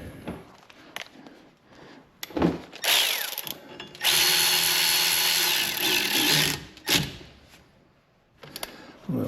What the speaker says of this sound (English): Get this little Torx bolt back in there and start putting her back together.